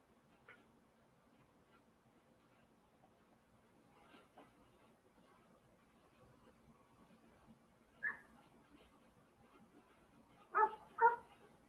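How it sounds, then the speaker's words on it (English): A dog barks a few times in the evening, faint and distant at first, then a closer pair of barks near the end, with no talking over it. "There goes that dog."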